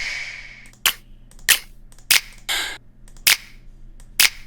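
Finger snap sample placed in a house music track, cracking out as sharp bright hits about every second over a low, steady bass-and-pad bed, with one longer hissy burst in the middle.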